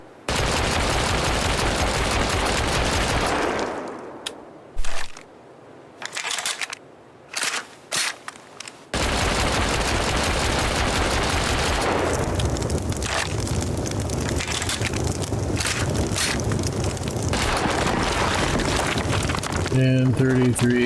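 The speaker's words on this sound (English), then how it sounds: "And then it should be the 33 explosive bullets again." Explosive ammo gunfire in Rust, with rapid continuous shots roaring steadily at close range, broken by a short stretch of scattered single bursts before the sustained firing resumes.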